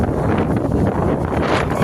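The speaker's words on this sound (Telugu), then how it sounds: "చాలా గాలి అయితే వీస్తుంది" Strong wind buffets the microphone on the upper front deck of a passenger ship near the anchor, a steady loud roar with no break.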